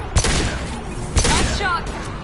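Gunshots in the shooter game Mass Effect 2: two sharp loud blasts about a second apart over a busy combat soundscape, with voices talking.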